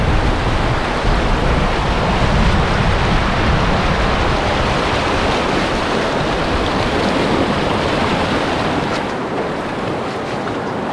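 River rapids rushing in the Quebec wilderness, a loud continuous churn of whitewater with wind buffeting the microphone, steady and unbroken throughout.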